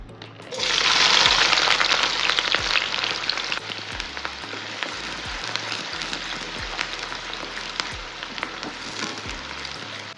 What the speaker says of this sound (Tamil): எண்ணெய் சேர்த்துருக்கேன் இந்த சமையலுக்கு வந்து கொஞ்சம் எண்ணெய் ஜாஸ்தியாக தான் தேவைப்படும் சின்ன வெங்காயம் கட் பண்ணியிருக்கேன் சின்ன வெங்காயம் சேர்த்துக்கிறேன்